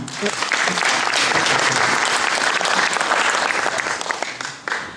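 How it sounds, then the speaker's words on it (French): An audience applauds Madame Djeynaba Koumatou Diallo with dense, steady clapping that fills the whole stretch, near and loud, fading slightly at the very end. "Si vous voulez même, vous pouvez applaudir"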